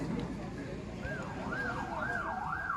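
An ambulance's wailing siren rises and falls in smooth repeated sweeps, fairly close, over a steady rumble of traffic.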